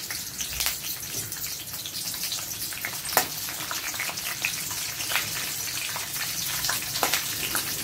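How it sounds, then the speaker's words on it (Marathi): Peanuts and curry leaves sizzle in hot oil in a pan for kanda poha: a dense, steady crackle close by, dotted with sharper pops and occasional stirring clicks. "आता शेंगदाणे आणि आता कढीपत्ता टाकला"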